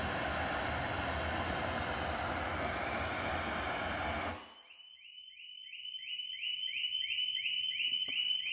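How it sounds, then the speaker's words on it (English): Loud steady pink noise from a Rockford car audio amplifier cuts off, then a motorcycle alarm sets off nearby, a repeating electronic chirping and warbling pattern that keeps cycling. "It's loud enough to set the alarm off on the bike"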